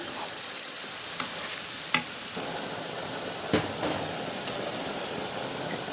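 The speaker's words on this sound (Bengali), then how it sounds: "এখন আমার মশলাগুলো ভালো করে একটু পেঁয়াজগুলো মশলাগুলো সব কিছু একসাথে মিক্স করে" Beef and onions fry in a pan with turmeric and chili powder being stirred in, giving a steady, soft sizzle broken by a few faint scraping clicks from the spoon.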